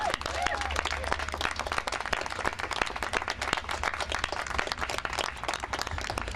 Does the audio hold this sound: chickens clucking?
no